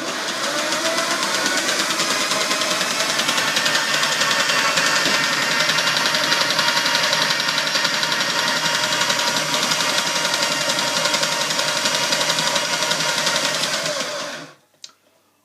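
The electric motor of an automatic chicken coop door hums steadily and loudly with a fine mechanical buzz for about fourteen seconds, then cuts off abruptly, followed by a brief click.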